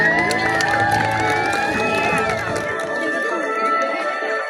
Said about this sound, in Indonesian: Beri tepuk tangan yang paling meriah untuk kedua perempuan cantik dari 10 MPLB 2